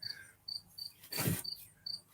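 A single cricket chirps loudly close by near an open screen window, giving short repeated bursts in a steady rhythm, with a brief rustling noise in the middle.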